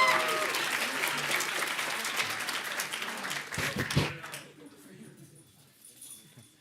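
Graduation audience applause for a physical therapy and rehabilitation sciences class, a dense wash of clapping that fills the room for about four seconds, then fades and thins into scattered claps and quiet murmuring.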